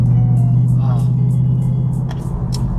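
An S550 Ford Mustang exhaust with an X-pipe rumbles loud and steady at close range in a deep, continuous idle drone, with faint voices over it.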